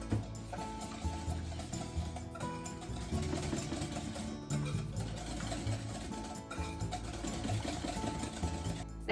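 Butter being mixed in a bowl for matcha madeleine batter gives a steady, continuous whirring churn that runs the whole time at moderate loudness, with a faint tonal background underneath.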